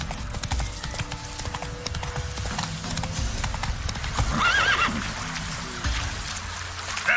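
Roach, a horse in the video game The Witcher 3 Next Gen, gallops with steady clip-clop hoofbeats and whinnies once midway, over continuous in-game ambience and a faint trickle of water.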